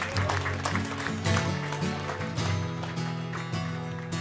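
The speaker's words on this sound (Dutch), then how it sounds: "Dus eerst applaus voor Sido Martens." An audience applauds at a live Dutch poetry event as poet Sido Martens is introduced, a steady wash of clapping mixed with loud, rhythmic music with a prominent low bass line throughout.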